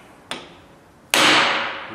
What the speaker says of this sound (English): when you guys are using a center punch